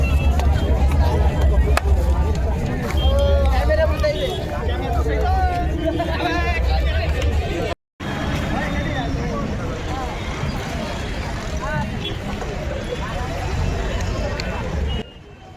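A festive crowd at an election victory procession fills the street with dense, steady babble and chatter, with voices near and far and a brief cut midway before the commotion resumes.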